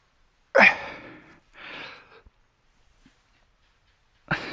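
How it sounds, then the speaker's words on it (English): Person outdoors at night breathing heavily, with a loud sharp exhale or gasp followed by a softer breath, then quiet before another forceful breath at the end, close to the microphone. "Because now it's just me breathing heavy."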